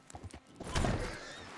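Horse hooves clop and a whinny rises briefly in the Red Dead video game, a short burst of thudding steps followed by a loud neighing cry, close and without talk.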